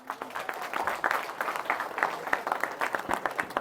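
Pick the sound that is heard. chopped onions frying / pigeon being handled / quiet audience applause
quiet audience applause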